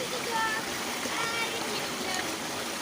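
A small waterfall and stream rush steadily nearby in a continuous broadband wash of flowing water, with a voice faintly present.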